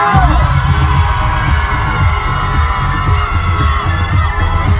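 A festival crowd at a Korean food culture festival cheering and shouting for a singer on stage: a loud, continuous roar of voices with deep rhythmic bass thumping underneath.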